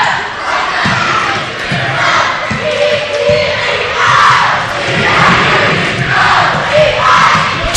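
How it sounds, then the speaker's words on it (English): Cheerleaders and pep clubs shout and cheer in rising, rhythmic chants over a loud, continuous crowd roar in a high school basketball gym, with occasional thuds of a bouncing ball. "Cheerleaders and pep clubs from both schools getting into it. I think the crowd might be a little bit louder."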